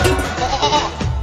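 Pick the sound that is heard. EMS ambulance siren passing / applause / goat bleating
goat bleating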